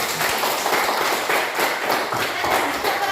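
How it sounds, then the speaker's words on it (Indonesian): A classroom of students clapping together before a prayer, a dense steady burst of many hands filling the room for the whole stretch, with faint voices mixed in. "Ibu minta satu kali tepuk tangan"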